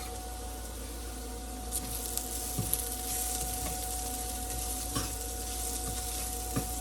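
Spices roasting in a pan with turmeric, garlic and tomato: a faint, steady sizzle under a low hum, with occasional soft clicks from stirring.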